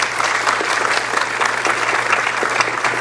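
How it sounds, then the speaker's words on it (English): Steady audience applause fills an awards celebration for the City of Toronto's Access, Equity, and Human Rights Awards, dense and even throughout with no pauses, plus a faint low hum underneath. "Can we give everyone a round of applause?"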